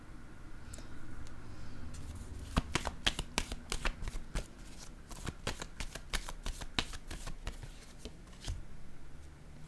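Tarot cards are shuffled by hand, a quick series of sharp riffling snaps and soft slaps in an uneven rhythm, close and fairly quiet in a calm room.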